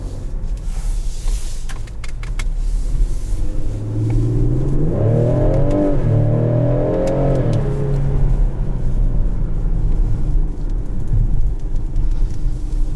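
A 2021 Ford Explorer ST accelerating hard, its engine rising in pitch through a rev climb with a gear change, heard from inside the cabin over steady road and wind noise.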